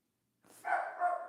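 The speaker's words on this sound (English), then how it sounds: "Oh, Toon's barking her brains out" A dog barks once nearby, a single short, moderately loud bark that rises from silence and then fades.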